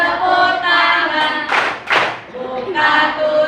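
A group claps hands twice in quick succession during a singing clapping game at an Indonesian teacher-coaching session, the claps landing midway through steady voices singing.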